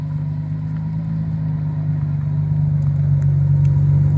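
An Infiniti G35 coupe spinning both rear tires in a yard, a steady low engine drone at high revs that swells gradually louder, close by and without talk.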